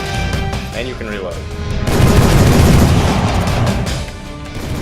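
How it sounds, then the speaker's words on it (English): Gunfire in the video game Jurassic: The Hunted sounds as a loud, booming burst of shots and crashing impacts. The clip opens with game noise and a voice speaking under it, then heavy firing fills the middle. "your gun actually will kill the velociraptors in one shot if you hit them"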